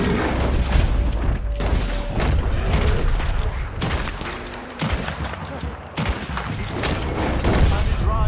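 Gunfire in Red Dead Redemption 2, heavy booming shots and bursts repeating at irregular intervals, loud and close over a dense rumbling background, with voices shouting among them.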